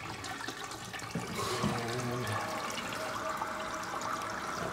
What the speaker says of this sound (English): So let's go ahead and flush it.